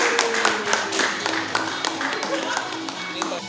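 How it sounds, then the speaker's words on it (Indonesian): Studio audience applause on an Indonesian TV show, a moderate round of clapping with a few sharper individual claps on top and some background voices and tones mixed in. "kita beri tepuk tangan buat Togi."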